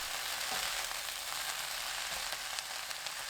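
Onion and fish cake stir-frying over high heat, a dense continuous sizzle with faint stirring movements throughout, close and steady with no talk.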